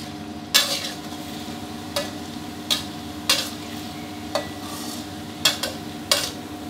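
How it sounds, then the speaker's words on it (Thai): Garlic frying in hot oil in a pan for Thai braised duck noodles, a steady soft sizzle broken by repeated sharp scrapes of a utensil stirring, fairly close, with no voices. "เจียวไปเรื่อยๆให้ได้ความเหลืองกรอบแบบที่เราต้องการเลยนะครับ"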